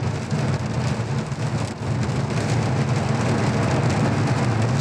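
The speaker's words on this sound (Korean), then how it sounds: "비가 참 많이 옵니다." Heavy rain pours steadily in a dense, continuous hiss, heard from inside a 2018 Avante car on the road, with a low rumble underneath and no talking.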